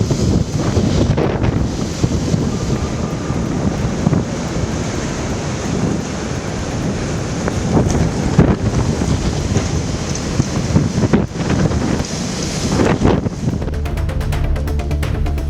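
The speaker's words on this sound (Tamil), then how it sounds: "மணிக்கு 160 கிலோமீட்டர் வேகத்தில் சூறைக்காற்று வீசியதால்" Typhoon winds of 160 km/h batter Hong Kong, loud gusting roars buffeting the microphone in uneven surges, with rushing water noise beneath and a brief lull near the end.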